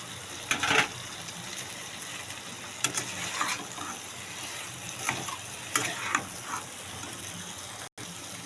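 Soybean chunks and potatoes go into a pan of cooked spice masala. They fry with a close, crackling sizzle, and sharp scraping stir strokes recur every second or two.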